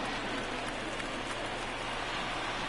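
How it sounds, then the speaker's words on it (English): Rain falling during a baseball game broadcast, a steady, unbroken hiss of moderate loudness that fills the whole moment without variation and with no voices over it. "Guess it's raining out."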